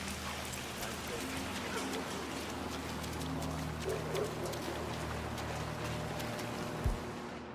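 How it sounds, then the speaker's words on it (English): Steady rainfall patters in the Hitman 3 video game, a dense even hiss of drops on surfaces running throughout, with a faint low rumble and a single brief thump near the end. "Let's get you out of the rain, shall we?"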